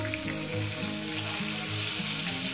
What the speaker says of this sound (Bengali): উল্টিয়ে দিয়ে এটা আমি এইভাবে একটু লাল লাল করে ভেজে নেব